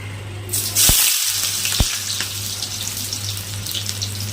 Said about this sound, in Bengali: তেল গরম হয়ে গেছে কচুগুলো এর মধ্যে দিয়ে দেবো